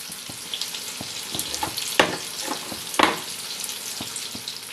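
Egg and onion pakoras fry in hot oil, giving a soft, crackling sizzle with scattered pops and a couple of louder spits, fairly quiet and close, without speech.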